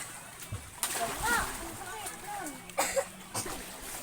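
Children splash and slosh in an affordable swimming pool, with several bursts of water spray on a warm day amid a stream of excited chatter and shouting voices throughout.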